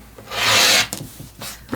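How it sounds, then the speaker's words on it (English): Fabric edge being trimmed for a zipper pouch, heard as a single close, steady rasping cut lasting about half a second, followed by faint handling noises. "I'm just going to trim this edge so it's all one piece."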